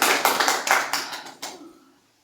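Short burst of clapping from a small audience at a Hindi religious talk on temple conduct, a handful of claps fading out within two seconds.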